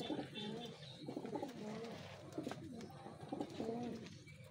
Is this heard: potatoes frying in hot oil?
no